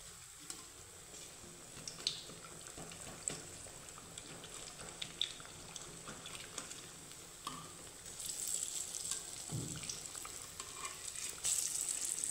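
Mung dal fritters (bora) sizzling steadily in hot oil, a continuous close crackle and spatter with small pops, swelling a little louder toward the end; no talking.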